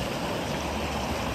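Water bubbles and rushes steadily in a rocky stream at Doodhpathri, Kashmir, a dense, continuous noise heard close with no talk.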